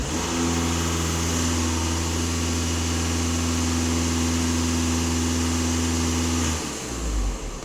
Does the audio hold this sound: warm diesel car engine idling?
yes